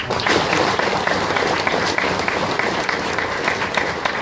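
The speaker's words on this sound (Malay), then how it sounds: "Kita berikan tepukan kepada Dato'." A studio audience at a televised debate on the Lynas rare-earth plant applauds a guest, thick continuous clapping that fills the room at a steady level.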